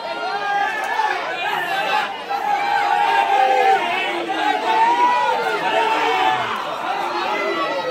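Excited crowd at a temple chariot festival in Kelshi, Dapoli, as prasad is thrown to people waiting to catch it: loud, dense chatter and overlapping voices close by, swelling throughout.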